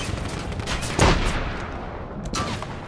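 Gunfire in the video game The Saboteur comes as a dense, loud burst of overlapping shots with one sharp crack standing out midway, all over a constant roar of battle noise.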